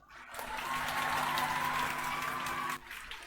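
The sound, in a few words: audience applauding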